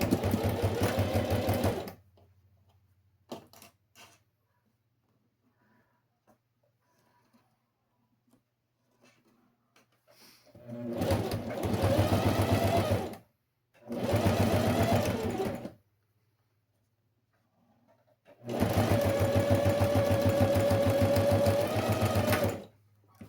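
A sewing machine runs in three separate bursts while stitching bias binding onto a fabric box-style cosmetic bag, loud and steady in each run, with short quiet pauses between.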